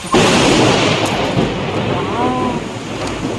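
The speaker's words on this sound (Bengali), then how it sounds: "কি জোরে একটা বাজ পড়লো দেখলে" A loud, close thunderclap bursts out suddenly, then breaks into a long, roaring rumble that fades slowly, heard during a rainstorm.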